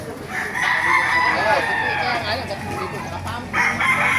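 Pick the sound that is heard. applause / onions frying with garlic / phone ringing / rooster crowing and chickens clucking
rooster crowing and chickens clucking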